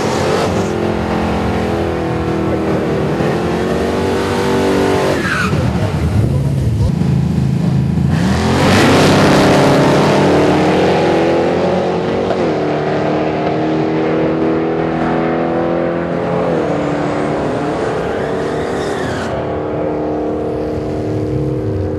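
A hot rod truck with an HT 350 Chevy V8 runs loud and close, its exhaust rising and falling through revs and gear changes, with a voice talking over the engine noise.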